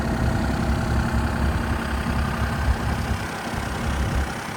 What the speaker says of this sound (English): It does have that diesel Kubota engine